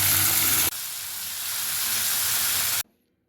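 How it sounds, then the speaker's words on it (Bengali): Cloves, raisins, cardamom and cashews sizzle in hot fat in a pan along with capsicum and chopped ginger. A loud, steady hiss runs close for about three seconds and then cuts off abruptly into silence. "লং, কিশমিশ, এলাচি, কাজু সবগুলো দিয়ে দিলাম। একটু নেড়ে চেড়ে তারপর আমি ভাতের সঙ্গে মিশিয়ে নেব"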